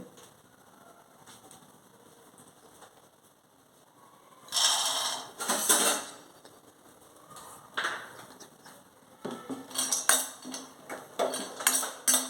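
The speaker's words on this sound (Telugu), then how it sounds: "కొంచెం ఆయిల్ కాగినాక దీంట్లో మొదటగా పల్లీలు వేసుకుంటున్నామండి" Peanuts drop into hot oil in a pan with sudden bursts of crackling sizzle and rattling, followed by quieter spells and more sharp spattering near the end.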